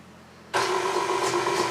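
An electric mixer motor switches on abruptly after a quiet moment and keeps up a steady, loud whirring hum with a high whine while mixing brioche dough with strong white bread flour.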